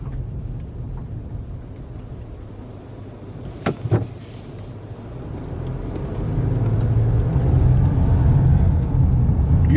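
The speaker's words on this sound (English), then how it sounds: "Now we can coast all the way to the top of it" A car coasts uphill out of gear on a road trip at Magnetic Mountain. A low, continuous road rumble builds louder toward the end, with a couple of brief knocks partway through and no engine revving.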